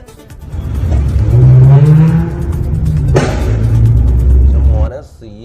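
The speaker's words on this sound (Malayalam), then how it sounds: "സൈലൻസറിലൂടെ തീയും പുകയും ശബ്ദവും പുറത്തേക്ക് തള്ളിയാണ് കാറ് മരണ ഓട്ടം നടത്തിയത്." A car's engine revs hard with roaring exhaust pushing fire and smoke out of its silencer. The loud, sustained growl rises and falls and carries a sharp burst partway through.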